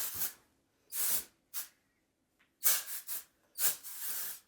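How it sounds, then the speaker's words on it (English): Several short, close hissing bursts of texturizing hair spray, some quick single puffs and some longer sprays, separated by quiet gaps. "It's a texturizing spray, and it just helps add a little bit of grit and volume to my hair."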